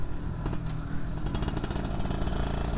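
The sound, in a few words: Yamaha F1ZR motorcycle engine with hollowed stock exhaust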